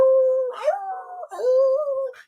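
A person imitates a dog howling with two long, wavering tonal howls that rise and fall, each broken by a short breathy gulp, loud and close.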